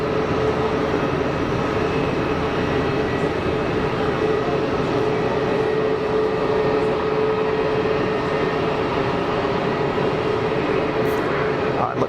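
A small aircraft comes in to land on runway 04 at Geneva Airport, a steady, loud engine roar and rumble that holds without break, with voices talking over it.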